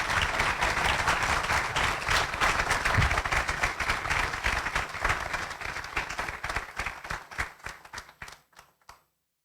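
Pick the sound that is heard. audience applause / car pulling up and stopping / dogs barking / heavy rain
audience applause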